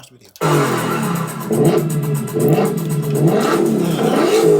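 The supercharged 5.2-liter V8 of a Ford Mustang GTD revs loudly and close by in repeated rising and falling surges over about four seconds, with a voice talking over it.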